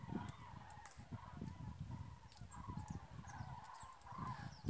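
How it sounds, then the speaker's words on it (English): Flocks of migrating cranes call continuously over a farm in cold weather, many trumpeting, honking voices overlapping at a steady, fairly distant level with no talking. "Migrating from wherever to wherever. Thousands flying over at the moment."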